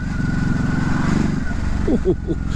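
A 2019 Ducati Hypermotard 950 motorcycle engine pulls hard in second gear, a loud, close, throbbing roar that holds steady and then eases, with someone talking over it.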